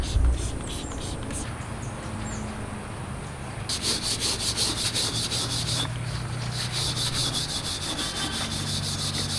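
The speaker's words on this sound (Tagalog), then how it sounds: "kunting kuskus na lang yung kailangan dito. So, try naman natin siya dito sa kawali." Steady rubbing and scrubbing on a blackened, wet frying pan, a close continuous abrasive scouring that grows denser and brighter partway through, with faint background noise and no talking.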